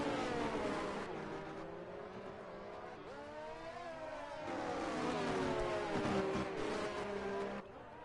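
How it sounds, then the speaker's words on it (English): Racing cars in a video game lap the Mexico circuit, engines whining near and loud with rising and falling pitch as they accelerate and shift gears toward the stadium section, several cars overlapping. "But Martin, DRS once again as they come down towards the stadium section."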